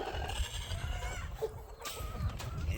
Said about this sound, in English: Guineas, chickens, living in perfect harmony.